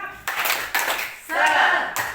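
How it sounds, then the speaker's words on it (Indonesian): A group of participants at a teacher training session claps the rhythmic 'tepuk semangat' spirit clap in a few sharp bursts separated by short pauses, with the final burst longer and fuller. "Tepuk semangat."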